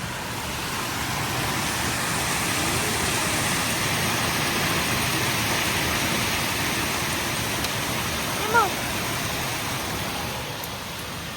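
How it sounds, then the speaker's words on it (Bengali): A heavy hailstorm pours down outside a window as a dense, steady roar of falling ice and rain, with one short exclamation from a voice partway through. "অনেক অনেক শিলা বৃষ্টি পড়ছে, অনেক শিলা।"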